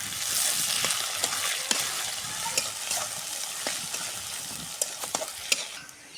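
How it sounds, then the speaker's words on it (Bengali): Chopped onion and garlic seasoning frying in a pan, a moderate steady sizzle broken by repeated sharp scrapes and clicks of stirring; no voices. "এখন চালানিটা আমি ভাজে নেব সুন্দর করে।"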